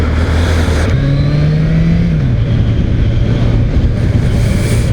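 A Yamaha XJR1300 motorcycle accelerates gently in first gear at light throttle. Its loud, close engine drone climbs in pitch, then settles and keeps running steadily.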